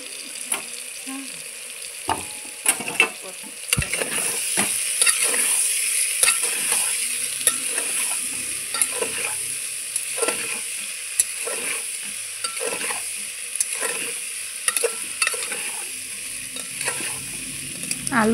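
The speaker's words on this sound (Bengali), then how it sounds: "পেঁয়াজ দিয়ে আবারও ভালোভাবে নেড়ে নিব।" Chopped onions sizzle and fry in a pan for a potato curry, stirred repeatedly so a spoon scrapes and knocks in an irregular rhythm over a steady close crackle.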